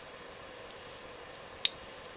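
A single small, crisp click rings out as a pin sets while an American A400K padlock is picked, close but faint against a quiet hissing background.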